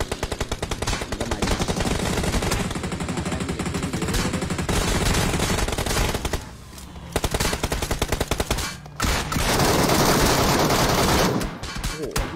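Video game gunfire: loud, rapid automatic bursts that run almost continuously, broken by a few brief gaps, close and dominant with no voice over them.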